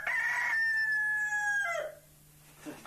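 A white-crested Dutch hen in a henhouse gives one long, loud crowing call that rises and then falls away, close by, followed by a brief quieter cluck.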